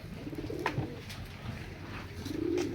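Pigeons coo nearby with low, throaty calls, one near the start and a longer one at the end, over faint background noise.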